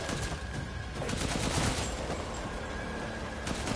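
Gunfire in Resident Evil Village: a dense, continuous crackle of rapid shots, steady in loudness, with no talk.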